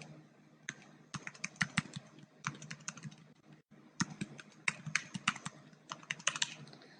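Password keys typed on a computer keyboard during a software installation, heard as quick bursts of crisp clicks in short runs separated by brief pauses, close and fairly quiet with no talking.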